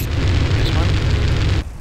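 Weapon crates burst into flames and explode in GTA San Andreas. A single loud, roaring blast holds for about a second and a half, then cuts off abruptly.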